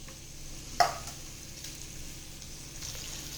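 Chopped ivy gourd and potatoes drop into hot oil with asafoetida, giving one sharp hiss that quickly settles into a faint, steady sizzle.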